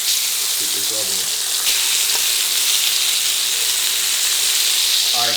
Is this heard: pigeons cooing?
no